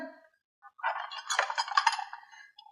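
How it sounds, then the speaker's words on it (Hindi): Dishes and utensils clink as they are gathered up: a short, close cluster of bright rattling chinks after a brief quiet moment. "चलो उठाओ ये सारे बर्तन।"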